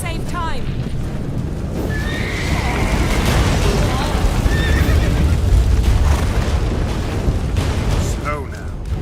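A horse whinnies sharply in The Witcher 3, then heavy hooves and rumbling action noise carry on beneath, with another neigh near the end and game voices talking intermittently.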